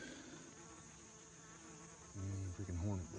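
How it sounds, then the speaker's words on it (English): A hornet buzzes faintly around a rural road on Ohio public land, a thin steady whine close by outdoors, joined toward the end by a louder low humming drone. "And freaking hornet buzzing around"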